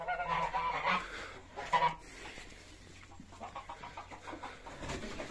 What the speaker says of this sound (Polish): Gęsi tu wlazły.